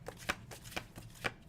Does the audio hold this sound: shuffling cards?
yes